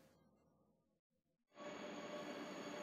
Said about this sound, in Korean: 서울역을 출발한 KTX 열차가 강릉역으로 들어옵니다.